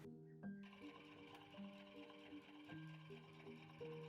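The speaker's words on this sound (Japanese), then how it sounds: "2枚合わせて縫います。" A sewing machine stitches two pieces of fabric together for a simple bag, running quietly in short stepped bursts beneath a soft tonal melody.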